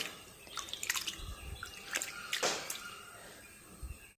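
Rice is washed in water by hand before going into hot water on the stove for rice porridge. Close, soft drips, squishes and splashes come in irregular bursts, and no one speaks.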